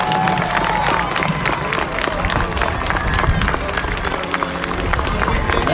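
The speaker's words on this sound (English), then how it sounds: "Let's give them a round of applause." A large crowd at a monster truck show claps and cheers loudly and continuously, a dense wash of applause with scattered whoops and voices mixed in.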